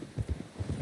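A horse walks in Red Dead Redemption 2, its hooves giving a quick run of close, rhythmic clip-clops in a brief burst.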